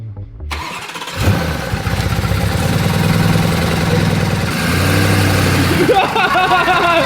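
A wrecked Lamborghini Urus with no throttle bodies fired up in a workshop: the engine catches after a second and settles into a loud, steady rumbling run that holds through to the end, with voices talking over it.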